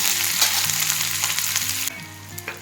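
Chopped onion and two green chillies hit hot oil with mustard seeds and half a spoon of cumin, giving a loud, close sizzle that crackles steadily before dropping to a softer fry near the end.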